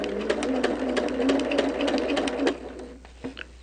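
A sewing machine stitches down a mitered quilt border, a close, steady rapid chatter of needle strokes for about two and a half seconds before slowing and stopping, followed by a couple of soft clicks.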